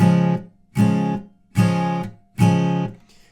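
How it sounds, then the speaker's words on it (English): Four evenly spaced guitar strums, each quickly palm-muted, giving a short, clipped staccato rhythm with brief silences between. "after each strum, you want to then just quickly mute the strings by putting your palm on"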